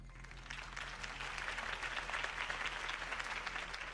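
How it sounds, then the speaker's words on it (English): Crowd applause from an election rally for Harvey Dent in the Telltale Batman video game, a steady wash of many hands clapping at moderate loudness for the whole stretch, with faint low hum underneath. "could have heard that applause"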